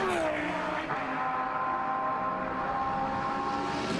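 A GT1 race car at full speed in qualifying at the Nürburgring in Germany, engine note rising and falling steadily as it runs down the back straight, loud and unbroken.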